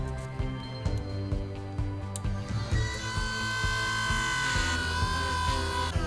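A rotary burr whines steadily while shaping the eyebrows of a carved wax skull ring, a thin high-pitched tool tone over low background hum that holds throughout.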